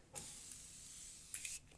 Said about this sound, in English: Morphe Continuous Setting Spray, light mist.